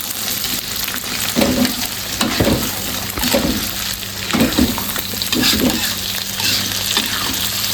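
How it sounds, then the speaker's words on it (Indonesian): Eggplant balado sizzles in a pan after a little water is added, with a steady crackling fry and repeated louder stirring surges spaced a second or so apart, close up with no talking. "Kemudian kita akan tambahkan sedikit air, sedikit aja."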